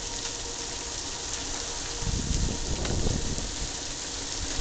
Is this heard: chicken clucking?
no